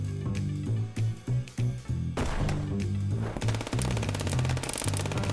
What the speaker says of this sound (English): I got way too close to the shotgun blast